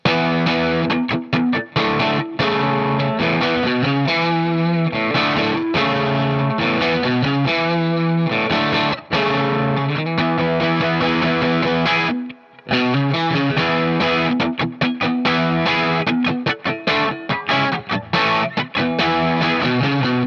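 An electric guitar strums the driving, distorted chorus chord progression continuously and loudly, with one short break midway before the full, dense strumming resumes.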